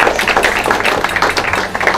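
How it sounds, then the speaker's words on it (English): A room full of people gives themselves a round of applause at a Boston Marathon runners' gathering, brisk dense clapping, close and loud, with a low hum underneath. "So give yourselves a round of applause first."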